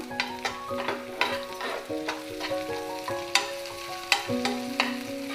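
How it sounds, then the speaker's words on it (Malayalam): Onions, garlic and curry leaves fry in a pan while a spatula stirs them, giving repeated scraping clicks and a soft sizzle under steady tonal music. "നമ്മുടെ ഉള്ളിയും വെളുത്തുള്ളിയും നന്നായിട്ട് ഫ്രൈ ആയി തുടങ്ങിയിട്ടുണ്ട്."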